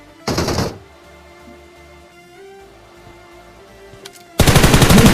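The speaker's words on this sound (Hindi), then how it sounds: "इस बंदे ने जैसे ही फायर किया और रीलोड करने लगा" Gunfire in PUBG Mobile comes as two rapid automatic bursts, a short loud volley, then a quiet stretch with faint game ambience, then a second sustained burst, close and dominant.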